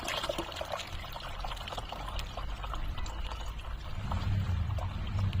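Water mixed with neem cake pours steadily onto potted plant soil with a continuous splashing rush that swells louder toward the end, no voices present.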